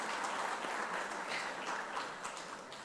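Members of the Eastern Cape provincial legislature applaud standing guests during a budget speech, a sustained, fairly faint patter of many hands that eases off slightly toward the end.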